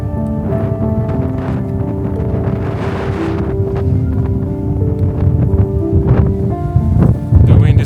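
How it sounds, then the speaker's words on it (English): Wind gusting on an exposed mountain trail climbing toward a summit, a steady loud rushing and buffeting across the microphone throughout, with a faint voice now and then underneath. "The wind is picking up a bit as we go higher, as you would expect."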